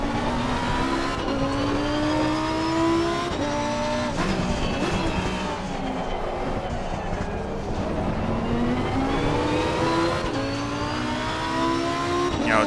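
A Lamborghini Huracan EVO GT3 race car in Assetto Corsa Competizione at COTA roars loudly and continuously, its engine pitch climbing through gears with drops at shifts and brief tire squeal, with no talking.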